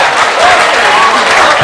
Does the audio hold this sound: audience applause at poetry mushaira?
yes